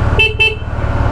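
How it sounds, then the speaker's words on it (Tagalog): Horn of a Kymco KRV 180 scooter sounding two short, loud honks in quick succession, close up, with a low engine idle underneath. "Low beam, busina,"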